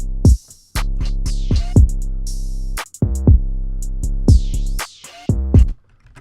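A deep 808 bass pattern programmed in FL Studio without slides plays loud and close, with sustained booming notes at steady pitches punctuated by sharp drum hits and hi-hat ticks in a looping beat.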